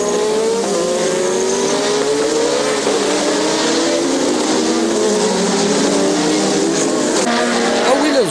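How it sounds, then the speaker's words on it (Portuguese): 1986 Formula 1 race cars, including a BMW-engined Benetton and a Williams Honda, scream past with rising and falling engine pitches, loud and overlapping, with bursts of acceleration and a brief tire squeal. "Enquanto isso, Fab, na outra Benetton, um carro com motor BMW que andava muito"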